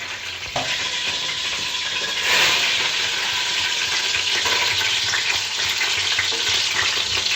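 Pumpkin halwa paste frying and being stirred in hot ghee, a loud, close, continuous sizzle with scraping stirring strokes and a brief surge partway through.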